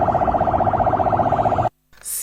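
An ambulance siren wails in rapid, regular cycles on a street in Kinshasa, loud and close, then cuts off abruptly and is followed by a short burst of other noise.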